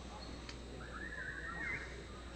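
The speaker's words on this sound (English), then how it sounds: "Birds chirping here at Halldale" A thin, rising bird chirp sounds faintly around the middle of the clip, inside a school gymnasium at Hall-Dale during a high school basketball game, over a low, steady crowd murmur.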